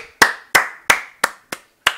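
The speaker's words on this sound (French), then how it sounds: "je demande un tonnerre d'applaudissements pour Dunidan" Six sharp, evenly spaced hand claps ring out close and clear, each with a quick decay, and there is no talking.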